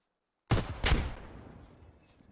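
Two sharp gunshots crack in quick succession in the Squad video game, each followed by a decaying echo tail, loud and close with no talk over them.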